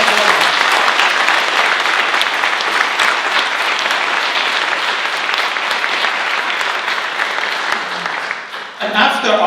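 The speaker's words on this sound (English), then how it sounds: "I think we should all applaud them" Sustained audience applause for deminers who risked their lives clearing mines from Azerbaijani lands, heard at a chamber event: dense, steady clapping from a large crowd that holds loud for about nine seconds before tapering off at the end.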